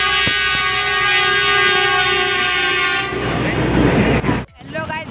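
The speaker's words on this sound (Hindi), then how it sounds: "अरे रेल नहीं रे, इंजन है रे." A railway locomotive engine passes close by, its horn blaring in a long, loud, steady blast, then cutting off into rumbling wheel and engine noise.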